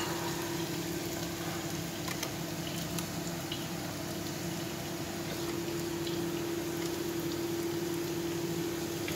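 Onion sautéing in a pan for spicy chicken with basil, a steady low sizzle and bubbling hiss running evenly throughout with a faint constant hum, no voices.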